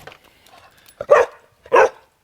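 A spaniel gives two sharp, close barks about half a second apart, preceded by a softer yip, in an otherwise quiet setting.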